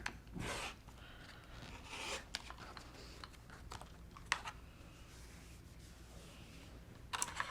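Quilting cotton is cut for a quilt block, heard as faint scraping swipes and small clicks of a cutter or ruler on a mat, repeated irregularly over several seconds in a quiet room.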